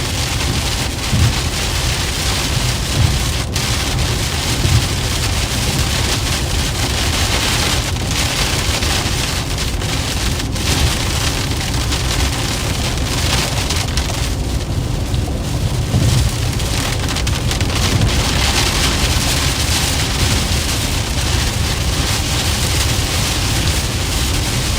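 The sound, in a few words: rain and thunder during a strong storm in Minnesota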